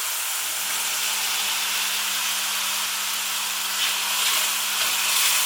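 Peppers sizzling in hot olive oil in a pan, a steady loud hiss that goes on without a break.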